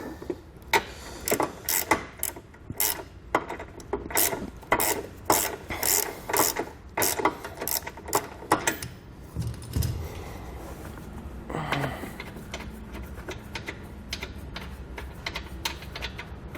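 A hand ratchet loosens a front bumper bolt on a 2020 Jeep during a base plate install, with close, loud bursts of rapid clicking in a steady rhythm, a short pause, then a few quieter strokes.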